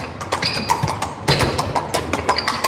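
A horse-drawn carriage passes on a late-night Dublin street, hooves clip-clopping in a brisk, irregular rhythm up close, with faint street ambience behind.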